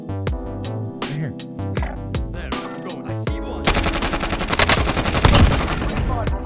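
Shotgun fire in Call of Duty Warzone: a loud, crackling burst of shots erupts partway through and keeps going after a tonal, musical opening.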